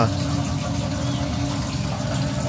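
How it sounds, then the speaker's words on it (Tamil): Water poured over bathroom tiles during cleaning, a steady splashing, gushing flow heard up close that runs the whole time without pause. "அப்புறம் அப்படியே தண்ணி ஊற்றிடணும்."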